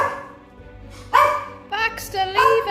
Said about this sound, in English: He always barks at Elliot when he walks out of the room